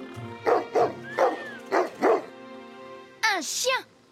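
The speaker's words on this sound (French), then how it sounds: "Un chien." A cartoon dog gives five short, evenly spaced barks up close, followed by a pair of higher yelping, whimpering cries at the end.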